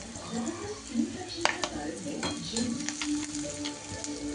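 Red chili sizzles in a hot pan with a continuous crackling fry, joined by occasional utensil clinks and stirring scrapes, and a voice speaks quietly beneath.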